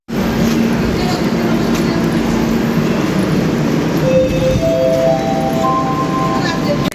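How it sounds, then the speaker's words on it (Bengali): Steady rumble and rattle inside a moving passenger train bound from Durgapur to Chennai, with faint clinks and tonal hums, continuous throughout and close, with voices present. "ট্রেনে চেপে গেছি"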